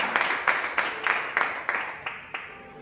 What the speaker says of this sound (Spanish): ¿Cuánto le dan ese aplauso al Señor?